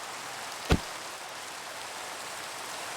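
Rain falls steadily in a video game, an even hiss of drops filling the whole clip, broken once by a brief sharp click near the start.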